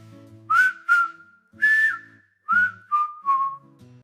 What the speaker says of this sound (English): Whistle a song. Whistle a song.